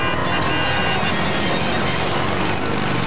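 Police cars weaving through traffic in Slough, England, chasing a stolen car, heard as a loud, dense, continuous wash of road and engine noise that runs unbroken throughout.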